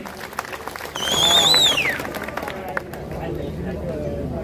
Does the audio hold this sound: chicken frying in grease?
no